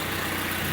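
A Mazda MX5 engine idling during a fuel pressure test for fault code P2097, a steady, even hum held at a constant level with no talking.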